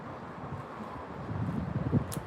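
Strong wind gusting outdoors and buffeting the microphone, a steady rumbling roar that swells louder toward the end, with brief rustling and no speech.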